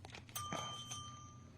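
A small bell struck once in a radio talk show studio, giving one bright ding that rings on and slowly fades over a quiet room background.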